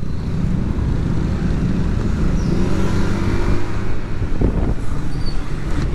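A Honda PCX 160 scooter engine, recently serviced, revs steadily up close, with the throttle opened and closed in repeated swells. The drone is loud and continuous throughout, with no talk.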